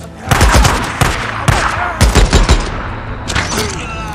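Rifle gunfire from the video game Days Gone sounds as loud bursts of shots in quick irregular volleys, several clustered cracks with short gaps, then a quieter stretch near the end with fainter sounds.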